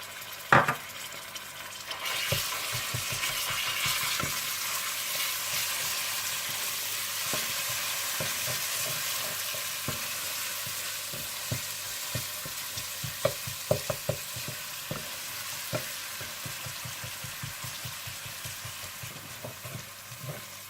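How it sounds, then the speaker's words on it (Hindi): Onion, ginger and garlic fry in a pan for chikar cholay, giving a steady soft sizzle throughout, broken by frequent scraping taps of a spoon stirring against the pan. "प्याज हल्के से गोल्डन ब्राउन हो जाए तो आप इसमें अदरक लहसुन डालकर भून लीजिएगा"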